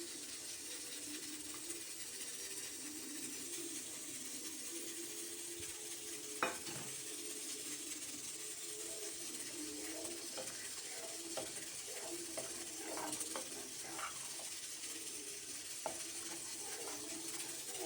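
Milk powder is stirred into hot milk in a pot, with faint, continuous scraping and light clicks over a soft simmering hiss and no voices.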